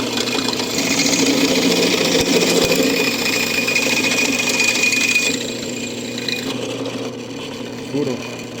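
A drill bit bores through metal while a drift trike is being built, holding a steady, loud mechanical whir for about five seconds before easing to a lower, quieter running tone.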